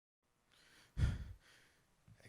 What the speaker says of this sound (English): Excuse the panting